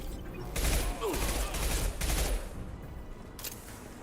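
Concussive shot ability fired in Mass Effect, heard as a run of loud, dense blasts that swell and fade over about two seconds, followed by a quieter, shorter burst.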